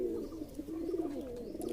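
A pigeon, sitting beside its sick mate, gives a low, soft rolling coo up close, one continuous throaty call under faint background noise.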